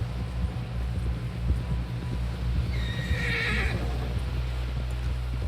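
In Red Dead Redemption 2, a horse gives a clear whinny partway through over faint clopping hooves and a low steady rumble of wind.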